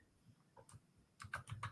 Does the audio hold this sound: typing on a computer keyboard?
yes